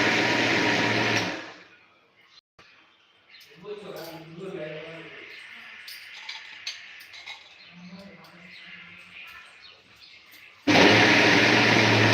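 A mixie grinds palak for palak paneer in a loud steady whir that stops after about a second and comes back strong near the end. Voices talk in the quiet stretch in between.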